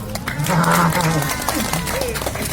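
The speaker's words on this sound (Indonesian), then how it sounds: "Tepuk tangan." Applause from the audience at a Balinese comedy show, a steady crowd clapping that blends with cheers and voices, with a voice cutting through over it.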